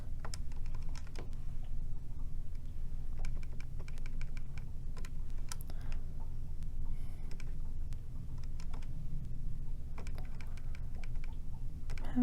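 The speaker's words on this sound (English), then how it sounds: "having some trouble typing into my calculator today." Steady quiet tapping of calculator buttons, a run of light plastic clicks over a low background hum, with no voices.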